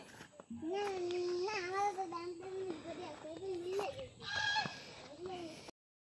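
Geese honk repeatedly at close range in a steady series of calls, with children's voices and babble mixed in around them.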